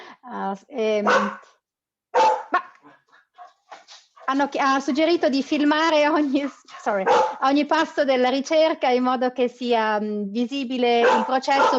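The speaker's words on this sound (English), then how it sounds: "my dog was going crazy" A pet dog barks and yips excitedly in a few short bursts early on, then someone speaks Italian continuously, drowning out any further barking.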